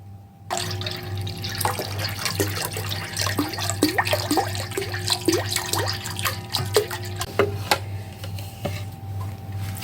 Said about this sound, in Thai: ในขั้นตอนต่อไปเราจะเติมน้ำเปล่าส่วนที่เหลือนะ